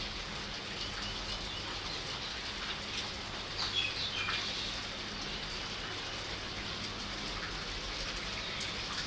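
Steady rain falls throughout, a dense even hiss of drops with a faint bird chirp briefly rising midway.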